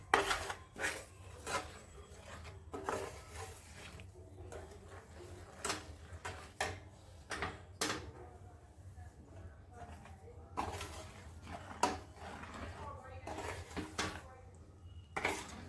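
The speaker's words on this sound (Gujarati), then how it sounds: "હવે આ ચાસણીને અંદર ઉમેરવાની છે થોડી થોડી કરીને અને ગેસની ફ્લેમ એકદમ ધીમી રાખવાની છે અને મિક્સ કરવાનું છે" Repeated scraping clinks of a spoon stirring sugar syrup into a thick mohanthal mixture in a pan over a low gas flame, irregular close strokes throughout.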